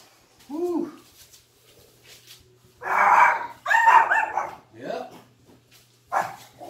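Puppies bark and yip indoors in short bursts, a couple of high yelps early and then louder clustered barks with whimpering tones, close by and with no speech.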